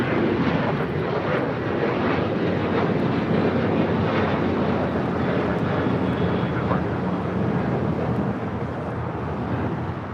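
Airliner departing LAX, a loud continuous roar of jet engines filling the whole stretch with a steady broadband rumble, slowly easing off toward the end as the aircraft climbs away.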